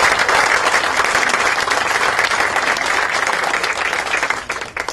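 A crowd at a playhouse reveal event applauds sponsors with loud, sustained clapping that holds steady, then thins out in the final second.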